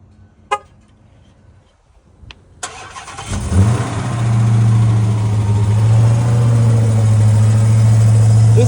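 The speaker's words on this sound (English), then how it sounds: "Let's cold start the Hellcat." A 2017 Dodge Charger Hellcat with a supercharged engine starts cold after a few clicks. The starter catches into a loud, sudden roar, then settles into a deep, steady, rumbling idle, close and alone.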